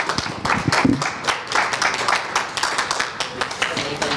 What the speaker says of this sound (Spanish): vamos a darnos un aplauso